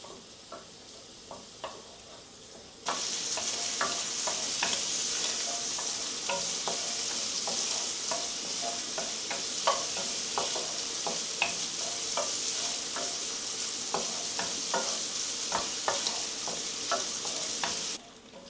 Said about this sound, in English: we're going to fry this until crispy